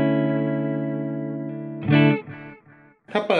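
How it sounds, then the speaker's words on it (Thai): Electric guitar chord rings through an MXR Carbon Copy Deluxe analog delay with modulation on, sustaining with a wavering chorus shimmer, then a few picked notes and a final strum repeat as echoing trails, loud and close. "จะมีความแกว่งของเสียงคอรัสเข้ามาด้วย"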